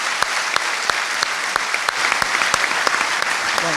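Audience applause at a book presentation for the book Yo No Me Quiero Ir, a steady wash of crowd clapping with a few sharper nearby claps standing out.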